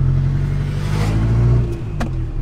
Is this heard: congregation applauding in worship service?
no